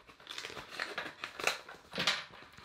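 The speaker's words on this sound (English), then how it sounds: "you get this plastic bag" A plastic bag crinkles close up as a game controller is unpacked, several quick rustling bursts with the loudest crackles near the middle and end, fairly quiet overall.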